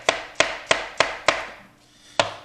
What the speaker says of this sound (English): for mushrooms, we're going to choke up on the knife, and we're just going to use the tip of the knife and kind of go through